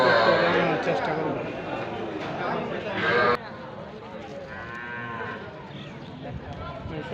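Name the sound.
Sahiwal bull and cattle mooing at cattle market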